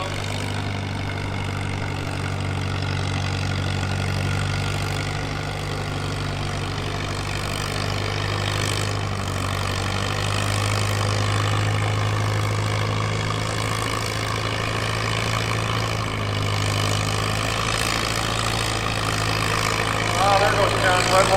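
A truck at a truck show, its engine humming steadily, idling and revving under the throttle in a continuous drone for the whole stretch while a voice talks over it.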